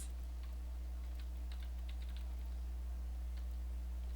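Keywords being typed on a computer keyboard produce sparse, light clicks in short bursts. The keystrokes are quiet and close, over a low steady hum.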